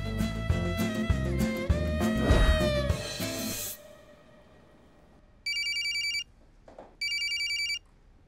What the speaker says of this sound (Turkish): O zaman ben bir Feride'yi arayayım ya